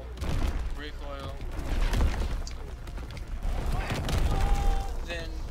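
Type 100 submachine gun bursts in Call of Duty WW2 gameplay, with rapid repeated shots coming in clusters along with other game sounds, under someone talking throughout.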